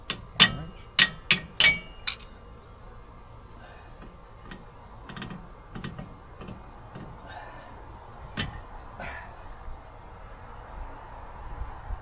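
A hammer strikes metal in a quick burst of sharp, loud blows during a lift kit install on a third-generation Toyota Tacoma, then scattered lighter taps and clinks continue sporadically at a closer, quieter level.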